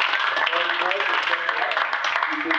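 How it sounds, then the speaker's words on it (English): An audience at a San Diego event applauds a volunteer coming up on stage, with steady clapping over roughly two and a half seconds and voices faintly mixed in. "I'll give Jim a round of applause."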